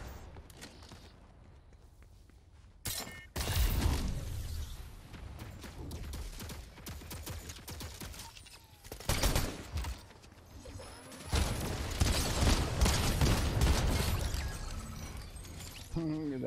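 Gunfire from a video game battle in a Zero Build duos match, dense bursts of shots and impacts crashing through a busy, loud mix with footsteps and game effects throughout.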